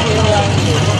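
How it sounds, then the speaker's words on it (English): A Chevrolet Malibu at a Hot August Nights car show gives a steady, deep engine rumble close by, low and unbroken for about a second, with a murmur of voices mixed in. "That's a Malibu. That thing sounds so nasty in person."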